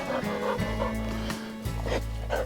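A pet dog barks and whimpers outdoors beside a Darche 450 BBQ fire pit, giving several short yips and barks over a steady low background hum.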